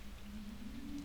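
Steady rain falls in the farming game Stardew Valley, a soft, even patter that holds without a break for about a second under a faint low hum.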